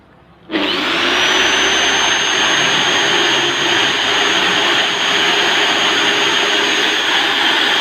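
A drill motor spins up at about half a second and runs steadily at full speed while a steel rod or small screwdriver scrapes a boat engine part, a loud continuous whine with a grinding, rasping edge and no speech.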